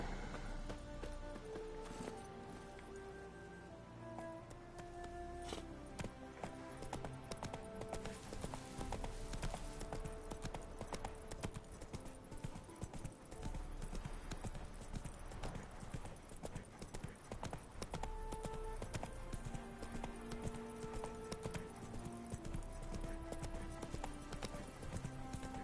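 Horse hooves clip-clop steadily in the Witcher 3 video game, a continuous galloping rhythm running under a busy layer of music and game sounds.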